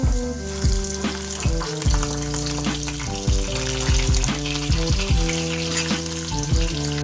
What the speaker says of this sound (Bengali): এই যে আমি আলু ভাজতে দিয়ে দিয়েছি